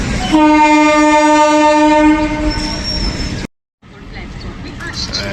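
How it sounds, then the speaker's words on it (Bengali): Dankuni local train departing Dum Dum junction on the Sealdah division, a loud sustained horn blast over rumbling wheels, then the rolling clatter of carriages close by picking up speed. "ডালকুনি লোকাল বেরিয়ে যাচ্ছে সোজা গিয়ে এখন স্পিড নিয়েছিল"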